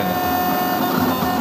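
A T-shirt making machine cutting a contour with a needle, giving a steady mechanical whir with a fine rapid buzz, loud and continuous throughout.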